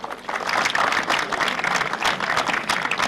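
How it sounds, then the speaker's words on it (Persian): Audience applause for a 43-year-old athlete after his timed run at an Iron Men strongman event in Chabahar, a steady dense burst of clapping throughout, fairly loud and close. "آقای تشویقش کنید."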